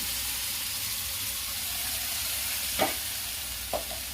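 Mixed vegetables sizzle steadily in a hot pan, a constant hiss with a couple of brief clinks or stirs partway through.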